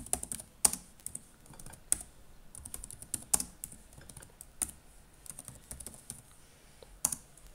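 Commands typed on a computer keyboard while setting up an Ubuntu home media server: quick irregular key clicks with occasional sharper strikes, close and clear, with no talking.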